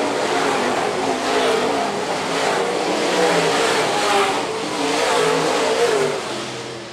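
Modified race cars run nose to tail out of a dirt oval corner at Phillips County Raceway, engines roaring and revving loudly together, a continuous accelerating drone that swells and fades slightly as the pack passes.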